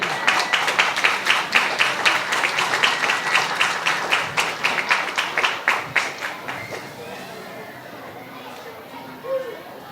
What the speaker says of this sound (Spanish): les pido un caluroso y respetuoso aplauso